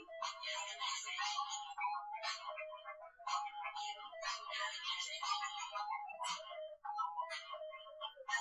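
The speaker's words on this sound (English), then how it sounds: "oops, my phone is ringing" A melodic electronic ringtone plays repeated bright chime phrases, fairly clear and alone, with brief pauses between patterns.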